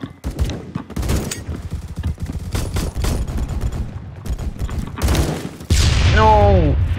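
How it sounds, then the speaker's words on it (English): Rapid bursts of RPK machine gun fire in the online shooter Phantom Forces, loud close automatic volleys mixed with in-game explosions, followed by a heavy blast near the end. "Just try going in with a machine gun."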